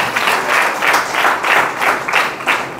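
A church congregation breaks into applause during a sermon, a steady wash of many hands clapping in pulsing waves, loud and close, with no voices rising above it.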